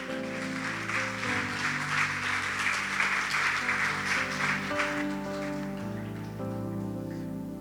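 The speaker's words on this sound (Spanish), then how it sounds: "Denle un fuerte aplauso al Señor." A church congregation applauds loudly and continuously while sustained organ or keyboard chords and music play underneath, giving a dense, rain-like wash of clapping throughout.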